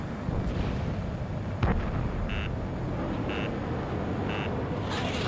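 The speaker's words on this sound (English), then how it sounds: "Missile hit." A missile strikes its target in Ace Combat 7: Skies Unknown, a single muffled blast over steady jet engine roar, followed by repeated short electronic warning beeps.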